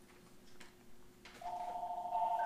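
A telephone starts ringing indoors partway through, a steady electronic ring tone that grows louder and holds to the end after a quieter stretch of faint background noise.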